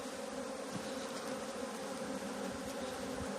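Honey bees buzz inside a hive in Adilcevaz, Bitlis, eastern Anatolia, a steady close droning hum with no talk over it.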